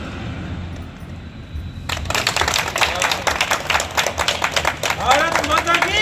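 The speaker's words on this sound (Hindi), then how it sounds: "को ताली बजाएं।" An audience at a 26 January Republic Day school program claps together, starting abruptly after a quiet moment and continuing as sustained, fairly close applause with dense irregular hand claps.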